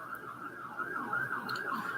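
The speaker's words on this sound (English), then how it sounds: "You hear the sirens now, right?" Sirens wail outside, a steady wavering tone carrying from a distance, fairly faint but continuous beneath the room.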